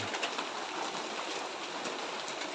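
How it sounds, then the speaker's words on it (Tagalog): Heavy rain pours steadily, a dense hiss of drops pattering on surfaces close by. "Ito yung paligid mga idol oh talagang ulan na ulan"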